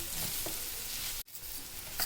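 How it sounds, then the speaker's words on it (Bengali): Onion and poppy seed paste frying together in a pan, a steady close sizzle with stirring scrapes, broken by a brief silent gap midway before the frying resumes. "পেঁয়াজ পোস্ত একসাথে ভাজা হচ্ছে"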